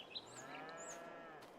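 Cattle moo in a farming video game, a single drawn-out low call with harmonics, fairly clear over quiet background ambience.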